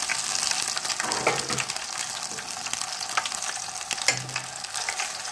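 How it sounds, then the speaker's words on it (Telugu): Spices, curry leaves and ginger-garlic paste fry in hot oil on a low flame, a steady broadband sizzle running throughout with a few brief stirring scrapes near the start and middle, no voices. "చక్కగా సిమ్లో పెట్టుకుని ఫ్రై చేసుకుందాం."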